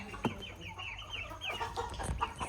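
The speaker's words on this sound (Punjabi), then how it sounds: "ਇਹ ਮੁਰਗੇ ਫਿਰਦੇ ਨੇ" Chickens clucking and murmuring nearby, several soft calls overlapping over low background rumble, with a sharper cluck now and then.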